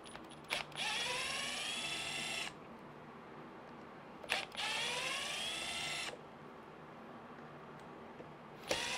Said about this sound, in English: if you are going to use a drill to do these guys here, don't go crazy